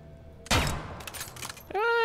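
A burst of rapid gunfire in the video game Dead Island 2 crackles for about a second, then a bright ringing electronic tone follows.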